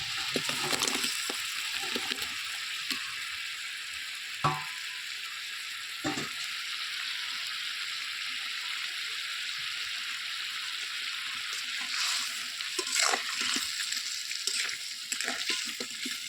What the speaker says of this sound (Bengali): এবার আমি আগে থেকে যে মাছগুলো ভেজে রেখেছিলাম সেই মাছগুলো আমি একে একে দিয়ে দিচ্ছি